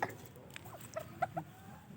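Turkey chicks hatching from their eggs give a few thin, high peeps spaced across the moment, faint and close, with soft handling noise around them and no talk.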